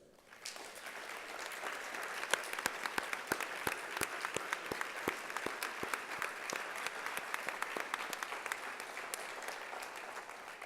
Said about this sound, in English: please give them a round of applause for all the work that they do on behalf of our kids each and every day.